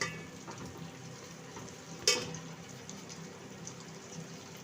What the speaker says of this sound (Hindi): अब हम इसमें डालेंगे भिंडी। भिंडी को हम फ्राई करेंगे।